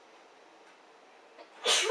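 One close, abrupt human sneeze bursts out at the end after a stretch of quiet background hiss.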